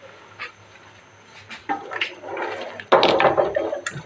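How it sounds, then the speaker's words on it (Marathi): Hot water poured into a cooking pot while making masoor pulao, a broad splashing pour that starts softly and swells louder near the end, close by. "गरम पाणी टाकलं म्हणून ती बॉईल तैसाच आहे"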